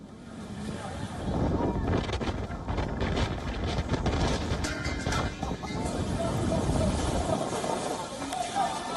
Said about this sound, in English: Videos such as this are going viral on social media platforms that show how intense the wind speeds were